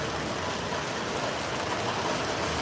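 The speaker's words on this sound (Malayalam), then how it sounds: "ഈ മഴ എല്ലാ സ്ഥലത്തും ഉണ്ടോ" Heavy rain pours down steadily in Kerala, a dense, continuous hiss of falling water close by with no pauses and no voices.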